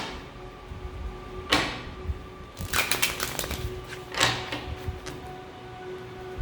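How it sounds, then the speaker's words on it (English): Riffling shuffles of a tarot card deck, a few bursts of quick flapping and clicking close by, with a low steady hum underneath and no talking. "Let me shuffle and see what comes out."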